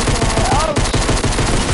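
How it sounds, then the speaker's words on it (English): Automatic gunfire in Fortnite rattles in a rapid, loud, continuous burst close up, shots overlapping densely for the full length with no pause. "somebody shooting me, bro."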